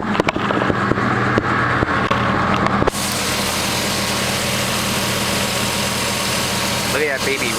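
A 1992 Chevrolet S10 pickup truck engine idling with a steady, close, continuous rumble that shifts in tone partway through, while someone talks over it.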